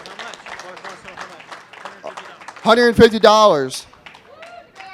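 An audience at a student auctioneering college auction breaks into brief applause after a sale, the clapping swelling over an auctioneer's calls and then fading as talk resumes.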